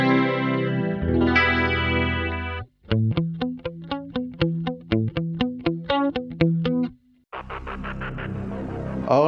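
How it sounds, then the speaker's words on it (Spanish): An electric guitar plays through a shimmering, wavering chorus effect on a Valeton GP-200 multi-effects unit: sustained chords, then a run of rhythmic plucked notes, then ringing chords again. "este sería el sonido con el chorus"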